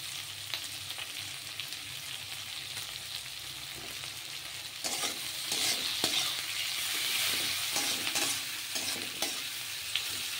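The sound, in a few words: chicken frying and being stirred in a pan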